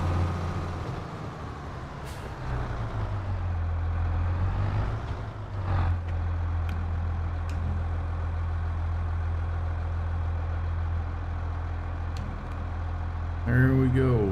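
Massey tractor engine running steadily while planting soybeans on a farm, a loud, continuous low diesel drone throughout with slight surges, and a brief higher mechanical rattle near the end.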